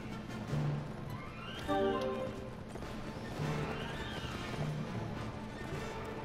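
A horse neighs loudly in the Mount & Blade Warband video game, followed by clip-clopping hooves and further short snorts and whinnies over a steady background.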